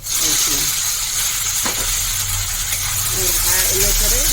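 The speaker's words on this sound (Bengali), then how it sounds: "টমেটোগুলো দিয়ে দিচ্ছি" Tomatoes dropped into hot spices and green chilies in a frying pan over a low gas flame, cooking for a Bengali fish dish; a steady, close sizzle runs throughout with brief scraping and stirring sounds.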